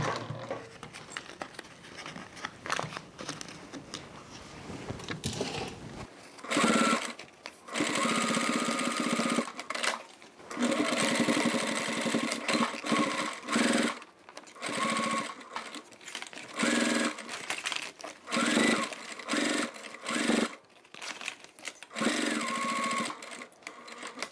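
Sewing machine top stitching the side of a fabric toiletry bag, a steady close whirring run in repeated bursts with brief stops between, after a quieter stretch of handling noise at the start.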